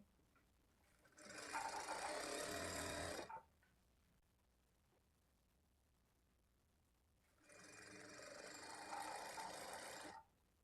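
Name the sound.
sewing machine stitching piping onto cloth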